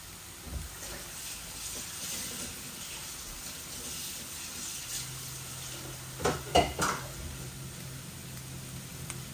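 Sliced leeks go into a pan with meat and potatoes, giving a soft frying sizzle and a few stirring clunks and scrapes, faint and steady under a low background hum.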